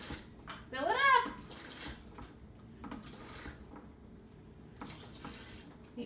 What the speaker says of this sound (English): Fill it up.